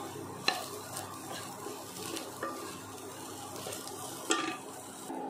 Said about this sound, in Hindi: अब ये हमारी सोयाबीन हो गई हैं फ्राई